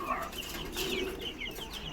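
Soft, close bird calls from a tiger hen kept at a pigeon loft, with low murmuring clucks over steady farmyard background noise.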